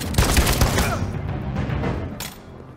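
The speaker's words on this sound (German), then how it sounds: "Ein richtig guter Schuss" Gunfire in the video game Detroit: Become Human, with a loud, sharp shot and rattling burst at the start that decays into a reverberant tail, then a second crack near the end.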